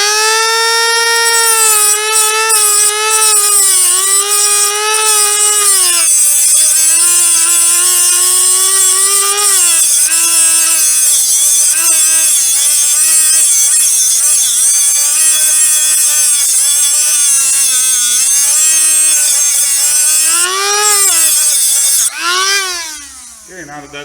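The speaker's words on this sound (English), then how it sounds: "We're going to come in here with the Dremel with a little grinder wheel." A Dremel with a small grinder wheel grinds rivets off a 2005 Summit snowmobile boot, a loud, sustained whine that rises and falls in pitch as the load changes, then spins down at the end.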